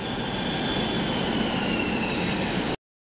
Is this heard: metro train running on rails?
yes